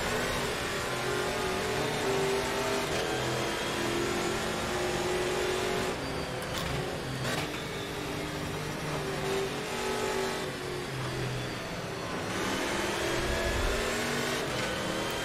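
A VW Saveiro race car in Automobilista 2 revs steadily through the gears, its mid-pitched engine droning continuously with brief dips at shifts, loud and close throughout.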